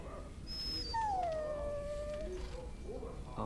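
A dog in the video game Dragon Age Origins lets out a long, drawn-out mournful howl that tails into soft whimpers, close and clear over faint game ambience.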